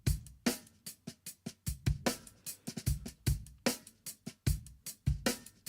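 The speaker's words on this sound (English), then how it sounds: "we've maybe got some really bright drums here." Bright, crisp drums play back in a music mix, sharp hits and snappy cymbal transients in a steady rhythmic pattern, clear and unaccompanied by talk.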